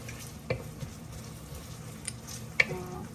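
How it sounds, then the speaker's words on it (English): Onions and zucchini sautéing in a pan, a faint soft frying hiss with a couple of sharp clinks of a utensil against the pan, quiet and close. "I let them saute them a little longer, maybe 10 minutes or less."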